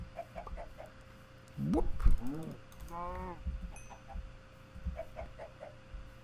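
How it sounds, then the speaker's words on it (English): Chickens in Minecraft cluck in short bursts, a few quick calls mixed with mechanical clicking and rattling ambience, moderately close; a voice briefly exclaims. "Chickens are pretty cool."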